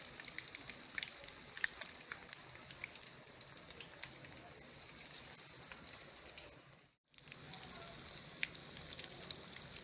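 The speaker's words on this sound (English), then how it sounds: "We will do deep fry." Pieces of silver dollar fish deep fry in hot oil, a soft, continuous crackling sizzle with scattered pops, briefly cutting out for a moment before resuming.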